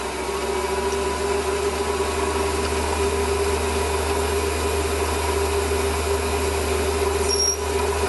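A drill bores about 8mm into a metal engine part with a steady, droning whine. A constant motor hum sits underneath and holds the same pitch throughout.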